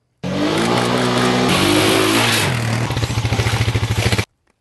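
A 2012 Honda FourTrax Foreman 4x4 ATV engine revs loudly up close, then settles into a choppy, pulsing idle before cutting off abruptly.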